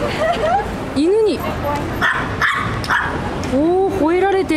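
A dog barking and yipping in a series of sharp, rising calls close to the microphone, with people talking over and between the barks.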